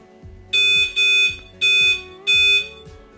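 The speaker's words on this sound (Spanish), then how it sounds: "Funciona, hace los 2 pitidos, la alarma se conecta." BUS-CAN alarm arming on a Mercedes W205, two pairs of sharp, loud electronic beeps in quick succession, close and clear with no talk.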